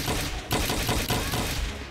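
Dual drum-fed guns blaze in the VR combat game Blade and Sorcery, a loud, dense stream of rapid gunfire with brief breaks in the bursts, heard alone without talk.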